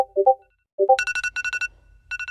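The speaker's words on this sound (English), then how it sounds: "notifications from Discord" A Discord notification plays amid Roblox game sounds: two short descending electronic chime pairs, then a run of bright, rapid ringing tone bursts, clean and isolated with no voices.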